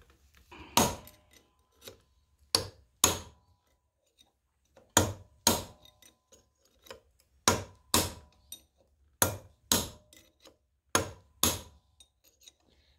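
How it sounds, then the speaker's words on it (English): Sharp metallic hammer strikes drive a punch through a front wheel bearing of a Farmall Cub tractor held in a vise, about fifteen blows in uneven pairs and clusters, each a crisp knock with a short ringing decay, no talking. "we're going to drive the punch on this side."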